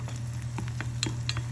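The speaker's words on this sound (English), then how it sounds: "You want the texture and a little crisp on the bottom. So you have to let it fry." An egg fries in a pan for a crispy, textured finish. A steady sizzle sits under low hum, broken by light, brief taps and scrapes.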